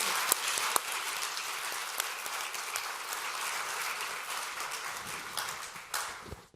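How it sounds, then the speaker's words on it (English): Audience applause after a speech by an EU vice-president at a City of London event, a fairly soft, even patter of many hands that runs continuously throughout, with a few sharper claps standing out. "So if we could say a round of applause"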